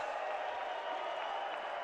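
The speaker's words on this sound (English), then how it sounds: "There's some crowd mics live. Make some noise!" A live crowd at a PUBG Global Invitational esports tournament roars and cheers in a dense, continuous wash of noise through the whole stretch, steady and fairly loud without clear individual voices.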